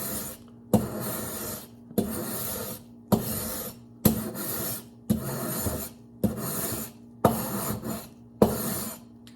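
A plaster block is scraped with a grater-like rasp in about eight separate push strokes, each a sharp close rasp followed by a short pause, in an even rhythm with no talk.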